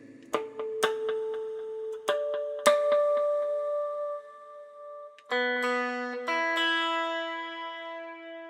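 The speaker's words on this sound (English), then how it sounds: "I'm just going to do a little bit of tuning here." Single guitar strings plucked one at a time and left to ring, pitches shifting between plucks as the instrument is tuned; quiet and unhurried.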